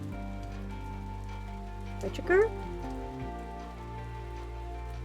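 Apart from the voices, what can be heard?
rain in the video game Necrobarista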